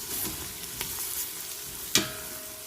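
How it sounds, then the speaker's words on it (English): Onions and mushrooms sautéing in a pan for broccoli soup give a steady soft sizzle with light stirring scrapes, a faint click near the start and a sharper utensil tap toward the end. "We're gonna saute this for another 5 minutes."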